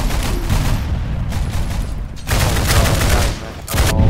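Rapid bursts of video game gunfire fill the clip, loud sustained volleys with a short gap around the two-second mark before firing resumes.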